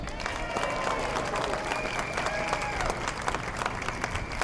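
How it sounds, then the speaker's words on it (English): Moderate audience applause in a school hall greets a headteacher, a continuous patter of many hands with faint voices and whistling tones mixed in. "So can you give him a big round of applause,"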